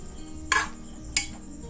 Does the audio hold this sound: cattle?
no